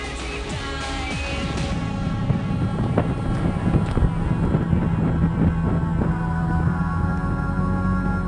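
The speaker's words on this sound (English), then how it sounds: "a cold wind was blowing tremendously" Strong, cold wind blowing outdoors at a higher elevation, roaring steadily against the microphone as a dense, continuous rush with some low rumble throughout.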